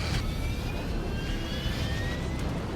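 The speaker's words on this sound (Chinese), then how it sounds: "让我们来看一下还原动画，飞机在正常起飞" An airliner engine roars during takeoff in a Roblox disaster game, a continuous rushing drone with a faint rising whine, steady and loud throughout.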